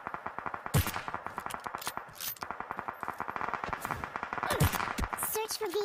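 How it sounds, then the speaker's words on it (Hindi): Rapid bursts of gunfire aimed at enemies in a battle royale video game crack in quick succession throughout, with someone talking over the shots. "उसके बाद 2 बॉडी शॉट लगाता हूँ, ठीक है।"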